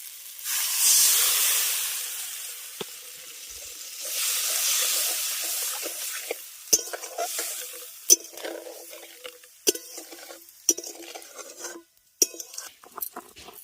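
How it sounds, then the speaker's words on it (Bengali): Water poured into fried mustard paste in a hot pan for an okra curry gives two loud, rushing hisses of steam and sizzle. These settle into softer frying with scattered sharp pops and clicks. "ভালো করে কষিয়ে নিয়েছি এবার এর মধ্যে দিয়ে দেবো জল"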